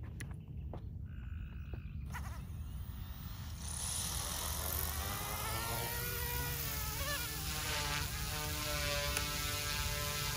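An OMPHOBBY M2 Explore RC helicopter spools up and flies, its rotor whine rising into a steady, loud, insect-like buzz with sweeping pitch changes, close by and with no one speaking.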